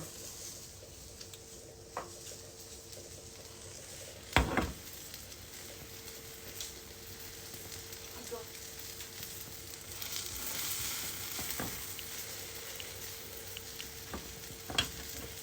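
Beaten egg fries into an omelette in a hot pan, sizzling steadily and faintly, with occasional stirring scrapes and a couple of louder clacks.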